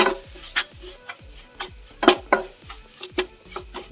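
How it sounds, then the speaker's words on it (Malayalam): Spice powders get stirred into a prawn masala in a pan, with repeated soft scraping strokes in an uneven rhythm over a faint background sizzle, close and quiet, without speech. "പൊടികൾ നല്ലോണം ഇളക്കി കൊടുക്കുക"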